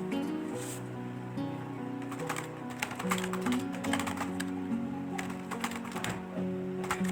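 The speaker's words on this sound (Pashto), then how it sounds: "زه پکې اوس تاسو ته لیکم" Steady typing on a computer keyboard while entering text into a file in a Kali Linux terminal, with quick clustered keystrokes over a constant low musical drone, no talking.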